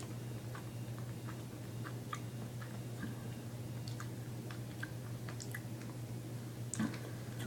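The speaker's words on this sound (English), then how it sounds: "after a little bit of chewing" Someone chews grape-flavored Plants vs. Zombies gummy candy close up, making soft, irregular squishy, sticky mouth clicks over a faint steady hum.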